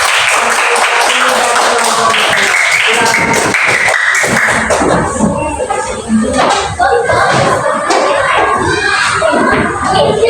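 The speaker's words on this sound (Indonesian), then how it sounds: "Sudah, tepuk tangan untuk temannya yang" Schoolchildren in a classroom clap for a classmate, loud and close, their quick, uneven applause mixed with shouting and chatter from the kids throughout.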